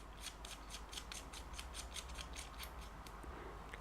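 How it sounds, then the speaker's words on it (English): A small aluminium cap is screwed back onto the elevation adjuster of a micro red dot sight, giving a quick series of faint, rhythmic threaded scrapes and clicks, close and quiet. "That's a little aluminium cap as well. There we go. Screw that back on again."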